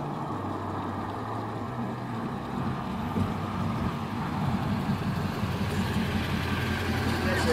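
A low engine rumble grows louder as a motorcycle approaches and passes nearby on a narrow bridge, with faint voices in the background.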